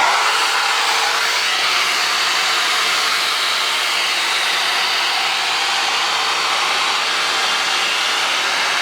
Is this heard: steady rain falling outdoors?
no